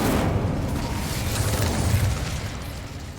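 Fiery Confringo and Incendio spell blasts in the Hogwarts Legacy video game form a dense, continuous stream of booming, crackling bursts that stay loud and steady throughout with no pause.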